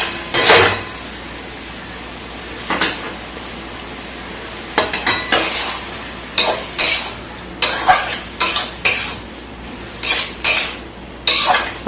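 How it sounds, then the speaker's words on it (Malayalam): Potato curry sautéed with turmeric and chilli powder in a pan, stirred in repeated scraping strokes with a utensil, a steady sizzle underneath and louder bursts of metal-on-pan clatter coming in quick clusters. "അത് ചേർത്ത് നന്നായിട്ട് ഇളക്കി വഴറ്റി ഇതെല്ലാം കൂടെ നന്നായിട്ട് യോജിപ്പിക്കണം"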